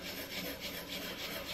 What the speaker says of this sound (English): So I'm gonna just show you the sanding sponge on here.